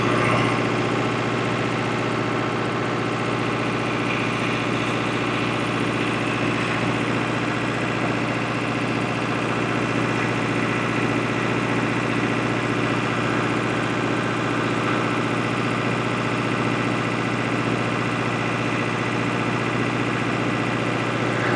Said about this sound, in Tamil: வைப்ரேஷனே கிடையாதுங்க, அதெல்லாம் 4 சிலிண்டரு, நல்ல ரீஃபைன்டு இன்ஜினு